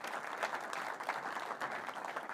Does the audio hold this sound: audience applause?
yes